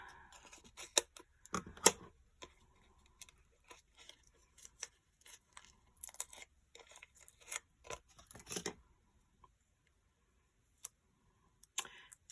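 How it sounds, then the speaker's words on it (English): Scissors snip through paper strips for a Stampin' Up! garden meadow card, giving a run of quick crisp cuts in bursts with pauses between them, close and clear with no talking. "I'll just cut another one"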